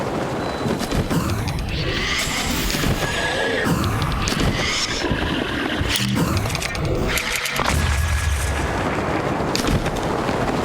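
Wind bomb blasts in The Legend of Zelda: Breath of the Wild, a dense run of booming bursts and rushing noise packed over several seconds, loud and close.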